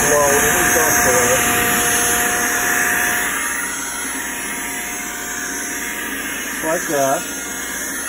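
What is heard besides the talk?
blower blowing dust off a taxidermy mount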